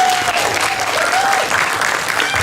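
Audience applause for a performer at a convention showcase, a thick continuous wash of clapping throughout the short stretch, with a faint tone gliding underneath.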